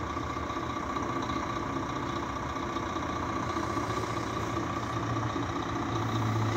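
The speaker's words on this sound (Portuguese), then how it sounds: "o primeiro Marco Polo G8 DD de Curvelo e região. Equipado com motor Scania" A Marcopolo G8 DD double-decker bus with a Scania engine idles steadily, a continuous low rumble close by with no talk.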